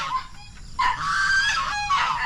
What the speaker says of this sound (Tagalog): Yung gansa, sila yung nag-iingay pag may tao.